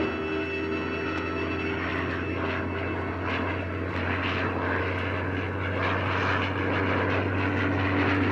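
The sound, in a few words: propeller airplane approaching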